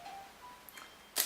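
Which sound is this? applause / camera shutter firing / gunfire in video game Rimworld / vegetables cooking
camera shutter firing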